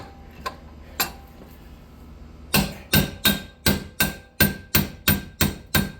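Hammer tapping the shaft of a Stihl KM 91R power head off its spline while held in a vise, two isolated knocks followed by a steady run of about nine sharp, evenly spaced metallic blows.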